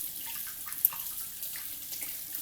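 Something rinsed under a running tap at a sink: a steady, fairly quiet hiss of flowing water that lasts throughout, with one brief splash partway through.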